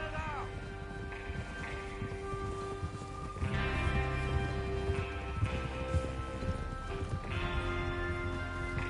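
Horses' hooves clopping on the trail as a gang rides out in Red Dead Redemption 2, a busy rhythmic clatter of several horses over a low ambient bed, with a faint whinny and no voices.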